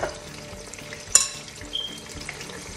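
Garlic paste frying in a pot with fried onion, a steady quiet sizzle punctuated by a sharp utensil clink and soft stirring scrapes.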